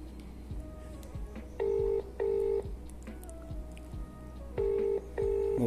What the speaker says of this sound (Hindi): यहाँ पे मैं अब अपने नंबर को कॉल करता हूँ, इस नंबर पे कॉल करते हैं